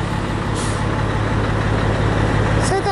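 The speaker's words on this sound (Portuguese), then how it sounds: "Que caminhão bonito, cara?" A truck passing close by, its heavy engine roar steady and loud throughout, with a short hiss like an air brake near the end.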